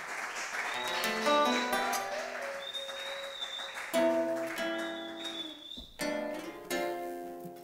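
Church congregation applauding Apostle Mupemba, a broad steady wash of clapping mixed with music tones and some voices, swelling and dipping over several seconds.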